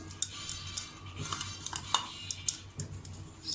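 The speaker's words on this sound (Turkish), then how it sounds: "Sarımsakları da ekleyeceğim." A metal utensil scrapes and clinks against a frying pan in a home kitchen as chopped garlic goes in and is stirred, with quick irregular taps and a soft sizzle underneath.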